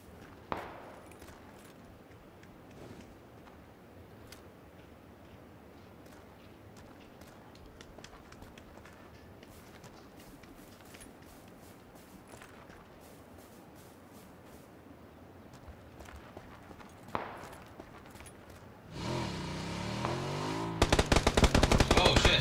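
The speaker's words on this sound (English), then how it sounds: "I hear gunshots" Gunfire crackles through a PUBG match: faint scattered shots early, then a loud burst of rapid machine-gun fire near the end, with a few sharp single reports in between.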